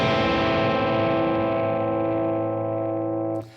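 A minor chord strummed once on electric guitar through distortion and modulation effects, in a worship guitar setting; the sustained chord rings loud and steady, slowly decaying, then cuts off abruptly near the end.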